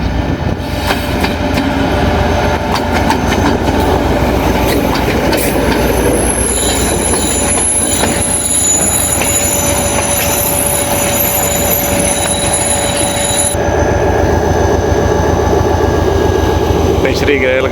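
A train hauled by a weathered HGMU 30 diesel locomotive rumbles past, with loud steady wheel noise, clattering carriages and high squealing wheels, heard close, in harsh weather.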